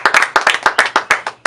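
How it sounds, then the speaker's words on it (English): Hands clap in a quick, fairly regular rhythm in a basement radio studio, about a dozen sharp, close claps alone, with a faint low hum running underneath. "Hey, clap it up."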